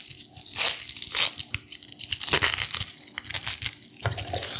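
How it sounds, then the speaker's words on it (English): A chef's knife from a Henckels Elan set cuts through an onion on a board, giving crisp crunching slices and tearing sounds in uneven bursts, close and moderately loud, with no talk. "So we got some onion action. Cut through the root, the stem."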